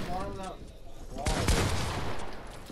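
Pump shotgun fire in the Fortnite video game: two sharp, close blasts in quick succession amid busy game noise, with a voice speaking just before.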